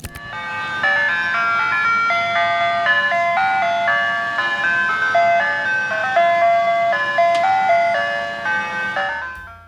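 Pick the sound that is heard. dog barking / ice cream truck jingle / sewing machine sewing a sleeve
ice cream truck jingle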